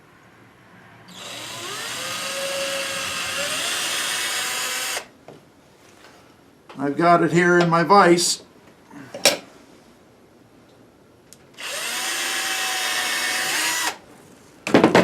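A power drill bores a hole through a drill guide in two long, loud whirring bursts, separated by someone speaking and some clunking handling noises.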